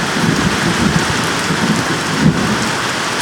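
Steady rain patters on flowers and leaves outdoors, with a soft low rumble of thunder far away swelling briefly near the end, all without voices.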